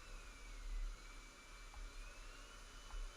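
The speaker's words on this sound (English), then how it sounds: "I also like how it sounds. Big turbine engine." A reverse-wing aircraft with canards and a big turbine engine flies in the RealFlight Evolution simulator, giving a steady, even whine with a constant high tone over a low rumble, unbroken for the whole stretch.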